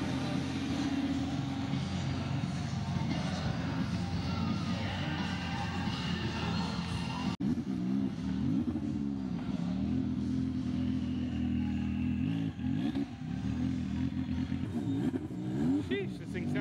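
A powerful supercar engine revs and roars close by at a car show, rising and falling through gear changes, with occasional voices in the background.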